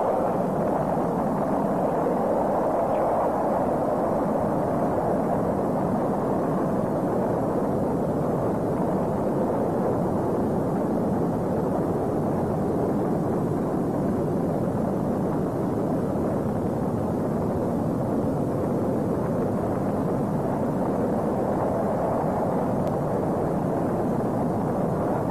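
A rocket engine ignites and lifts off into a deep, continuous rumbling roar that stays loud and steady throughout, with a broad, noisy low-end hum and no other distinct sounds.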